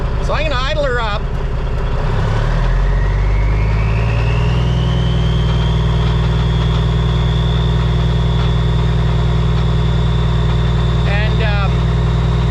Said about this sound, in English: So I'm gonna idle her up.